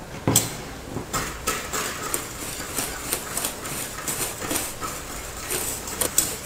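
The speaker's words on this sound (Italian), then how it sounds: "cominciamo a girare una frusta" A whisk stirs sugar and cocoa in a thick-bottomed steel pot, giving a series of close, rhythmic metallic scrapes and clinks that continue throughout.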